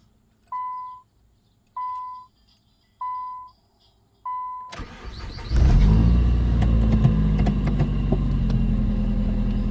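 Four short, evenly spaced key-on chimes are followed by the cranking and catch of a 2002 Nissan Sentra SE-R Spec-V engine after a throttle body replacement, settling into a loud, steady idle.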